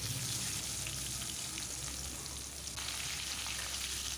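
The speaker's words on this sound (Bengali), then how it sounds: "এখন আমি পেঁয়াজ কুচি দিয়ে দিচ্ছি।" Chopped onion hits hot oil seasoned with whole cumin, green cardamom, cloves, cinnamon and bay leaf, giving a loud, steady, close-up sizzle that holds through the whole clip with no talking.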